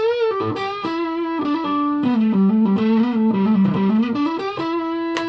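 A Yamaha Pacifica 112XJ electric guitar with distortion plays a short sustained melodic phrase, loud and close, with no voices.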